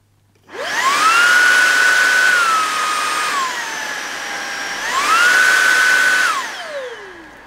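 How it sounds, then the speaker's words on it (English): Shark cordless vacuum cleaner switching on and running loud and close, its motor whine stepping down to a lower power setting and back up before winding down at the end, with no talk. "you might not be able to hear it over the sound of the vacuum"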